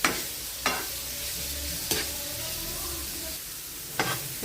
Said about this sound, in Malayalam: നന്നായി നമുക്കിതൊന്ന് വഴറ്റിയെടുക്കണം.